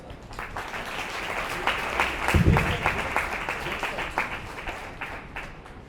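A church congregation applauds, uneven clapping of moderate size with a louder burst midway, while a voice murmurs beneath the clapping.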